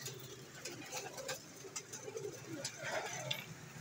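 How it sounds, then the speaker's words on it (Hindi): Pigeons coo repeatedly at a bird market stall on Jamia Masjid Road in Rawalpindi, among flying breeds with painted feathers; soft, low murmuring calls at close range over faint background chatter and street noise. "सारे अच्छे कबूतर हैं।"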